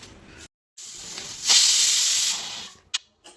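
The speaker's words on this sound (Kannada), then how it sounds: "ಕುಕ್ಕರ್ ವಿಸಲ್ ಹೊಡೆದು ಹೊರಗೆ ಬಂದು ನೋಡೋಷ್ಟೊತ್ತಿಗೆ" A pressure cooker whistle lets off steam in a loud, close hiss that swells, holds for about a second, then cuts away, with short bursts before and after.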